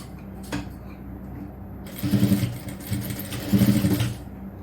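A sewing machine stitches a fabric frill for a nighty in two short whirring bursts, each lasting about half a second, close by over a quiet room hum.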